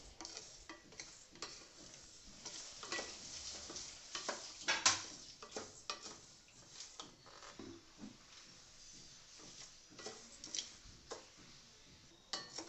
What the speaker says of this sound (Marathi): तांदूळ खमंग भाजून घ्यायचे आहेत